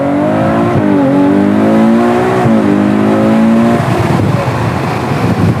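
Ferrari 812 GTS with Novitec modifications roars loudly from inside while driving, its engine pitch climbing in rising sweeps through gear changes before settling into rougher road noise.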